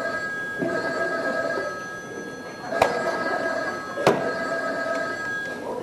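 A telephone rings during a stage play, with steady electronic ringing tones running throughout and two sharp knocks or clicks partway through, set against low background room noise.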